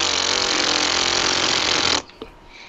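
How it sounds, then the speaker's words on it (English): A very loud motorcycle roars past outside, a dense sustained engine blast that fills the first two seconds and then cuts off abruptly, leaving faint room noise and a small knock. "immediately the loudest motorcycle ever has to drive by"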